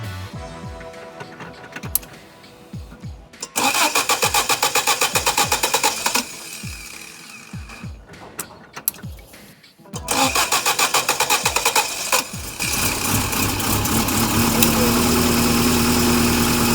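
A Subaru Leone engine cranks with a rapid, rhythmic starter chug. It catches briefly, cranks again, then fires into a loud, steady idle with a rough roar, recorded close up.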